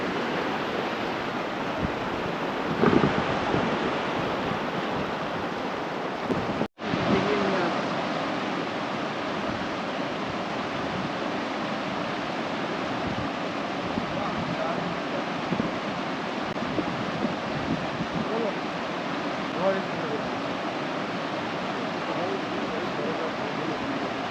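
Mountain spring water rushing near a bridge on a high Himalayan trail toward Gomukh, a loud continuous broadband roar throughout with one brief sharp click partway through.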